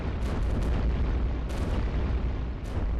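Heavy booming cannon fire and explosions from the tower-defense video game iBomber Defense, a dense, continuous low rumble with several sharper blasts standing out, loud and close.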